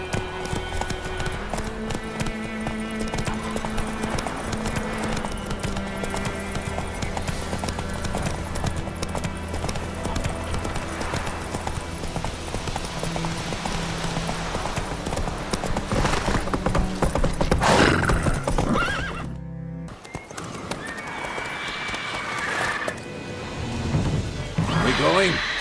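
Roach, a horse in The Witcher 3, gallops with steady, rapid hoofbeats under continuous game music and effects, breaking off briefly near the end before resuming, with voices heard at times.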